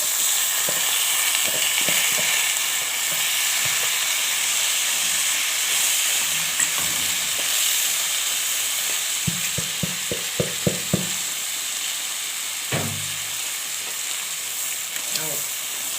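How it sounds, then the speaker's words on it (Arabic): Washed, drained rice frying with vermicelli in a pan: a steady, close sizzling hiss throughout, with a quick run of spoon clicks and scrapes from stirring partway through, and no talking. "هننزل بقى بالرز"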